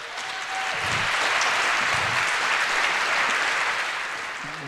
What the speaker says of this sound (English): Please give a warm round of applause to Hubert